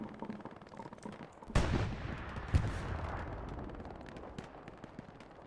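Shots are fired at a tank in a competitive team tank video game. Two sharp, booming reports land about a second apart, each trailing into a rumbling decay over quiet background ambience.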